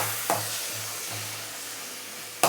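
Tomato paste sizzles steadily in a pan for a Tamil curry, a soft continuous frying hiss with a low hum underneath, punctuated by two sharp stirring knocks near the start and end.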